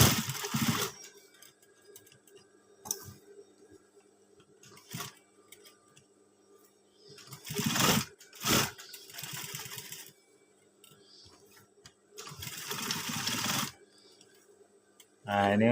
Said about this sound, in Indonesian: Baru lanjut menjahit sebelah sini.